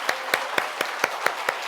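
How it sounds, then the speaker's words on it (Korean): Congregation at a Korean church Friday prayer meeting claps in unison, sharp synchronized claps falling at a brisk, even beat over a steady bed of scattered applause. "박수 한번 올리겠습니다."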